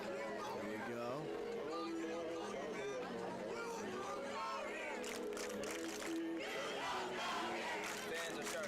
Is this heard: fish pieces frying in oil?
no